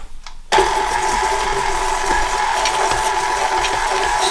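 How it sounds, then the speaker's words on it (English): An electric mixer creams butter and slightly lumpy sugar for a kugelhopf, switching on abruptly and then holding a steady, loud motor whir close by. "I'm just going to cream the butter and the sugar together."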